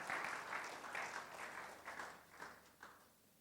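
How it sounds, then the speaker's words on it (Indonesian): A church congregation at a Sunday worship service claps together in a short, scattered burst. The applause fades over a few seconds and carries no speech. "Berikan tepuk tangan bagi Tuhan."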